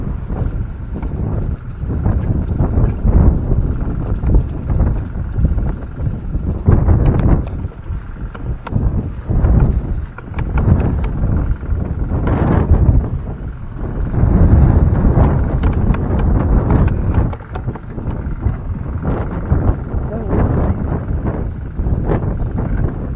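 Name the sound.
strong wind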